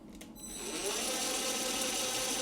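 A metal lathe spins up to a steady 320 RPM while machining a 4140 steel back plate, the motor rising from quiet to an even, continuous whir that holds for the rest of the clip.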